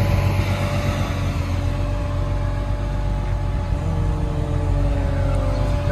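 A modified 1000 hp Nissan Patrol's engine idles right after a cold start, a steady, loud, droning rumble with a constant hum and no change in revs.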